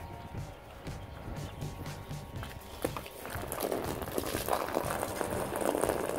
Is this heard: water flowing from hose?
yes